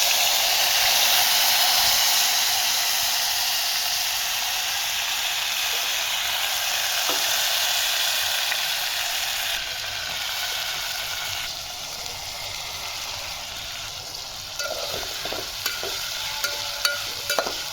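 Cumin seeds sizzle and crackle in hot oil at the start of a green bean curry, a dense continuous frying hiss close by that eases slightly with a few spatula clicks near the end; no speech.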